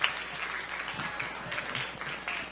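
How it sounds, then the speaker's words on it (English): Live audience at a children's event applauding two performers after a ventriloquist act, dense sustained clapping throughout with a sharp initial burst and a few louder accents. "Big round of applause for Yosef and Chezi for doing a great job up here."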